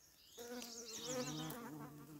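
A honey bee buzzing close by among uncut lawn plants at a cottage, a continuous wavering drone that rises and dips in pitch for a couple of seconds.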